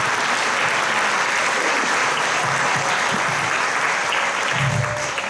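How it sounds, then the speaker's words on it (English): Loud, sustained applause from an audience at a band's 50th anniversary concert, dense clapping that fills the whole stretch at an even level with a faint crowd murmur beneath. "please put your hands together and give Willie a big round of applause."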